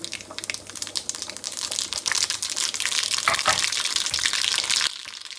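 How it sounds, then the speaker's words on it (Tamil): Mustard seeds splutter in hot oil in a single pot for a Jaffna-style lunch dish. A loud, dense crackling sizzle is dotted with sharp pops and builds over several seconds, then drops off abruptly near the end. "கடுகு வடிக்குது"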